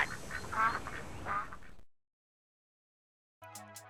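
An animated duck from a 2000s insurance TV ad quacks in a few loud, nasal bursts, followed by near silence and then a brief burst of music.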